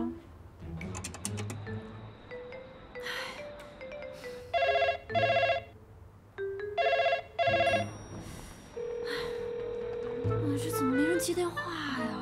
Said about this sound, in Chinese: 接电话呀！